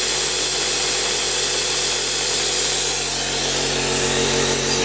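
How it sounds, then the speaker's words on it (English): Air compressor running steadily in a garage workshop during rear brake pad work on a Suzuki DRZ-400SM, a loud continuous broadband hiss with a low motor hum throughout, no talking. "You can hear my compressor turning on."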